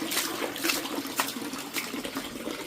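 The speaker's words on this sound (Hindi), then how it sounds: "पानी की आवाज़ आ गई।" Tap water running in a home after the supply returns, a steady rushing stream with irregular splashes, moderately close and continuous with no talking.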